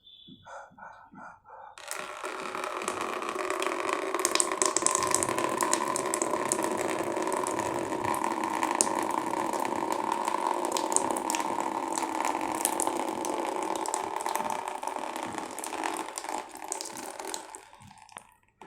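During jala neti, water poured from a lota flows through the nose and splashes down in a steady, continuous stream for about fifteen seconds, then stops abruptly.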